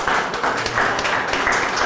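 Audience applause at an art exhibition in Bibbiena, a steady wash of clapping from a crowd that holds at an even level for the whole stretch, with no voices over it.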